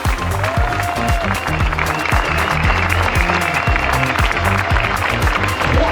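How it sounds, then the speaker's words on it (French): Crowd at the start of the Grand Trail du Lac race around Lac du Bourget claps loudly and steadily, dense applause filling the whole stretch with some voices and shouts mixed in. "un maximum d'applaudissements s'il vous plaît"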